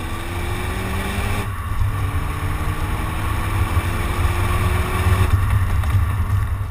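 A turbocharged 2016 Kia Pro Cee'd GT hums with a steady exhaust drone, rising tones sweeping upward as the engine builds, and a brief drop in the sound partway through.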